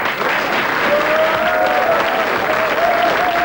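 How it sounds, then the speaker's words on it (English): A studio audience applauds at a television programme, a dense, steady burst of clapping that fills the whole moment, with no one speaking over it. "Give her a clap."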